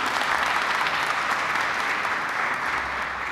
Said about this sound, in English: Please, big applause for Maggie